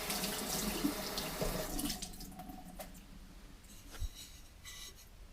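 Water from a running tap splashes loudly over a sponge being rinsed during pottery underglazing, then cuts off after about two seconds, leaving faint drips and soft handling sounds.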